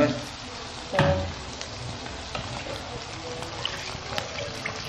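Shallots frying in a pan while cooking bobor, a steady close sizzle and crackle with a sharp clatter near the start, continuing evenly without talk.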